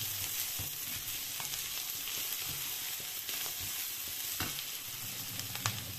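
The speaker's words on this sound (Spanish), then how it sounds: "cogemos una cucharadita de pimentón dulce y vamos a ponerlo y moverlo con" Onion and a spoonful of sweet paprika fry in a pan with a steady, dense sizzle throughout, broken by occasional soft scrapes of a utensil stirring close by, no talking.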